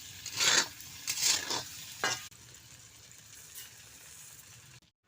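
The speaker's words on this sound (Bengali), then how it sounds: "তেঁতুলটাও ভাজা হয়ে যাবে।" Rice, fried dal and tamarind sizzle in a pot; a few loud stirring bursts come first, then a softer steady fry settles in before cutting off.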